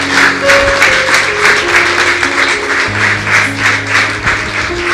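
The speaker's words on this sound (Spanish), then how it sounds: "Pues darle un aplauso a Dios." Church congregation applauding during a Sunday service, dense and steady clapping over a sustained musical hum, close and fairly loud for the whole stretch.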